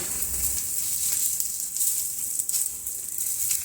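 Corn and fenugreek roti sizzles on a hot griddle greased with ghee, a steady soft hiss running throughout at an even, moderate level.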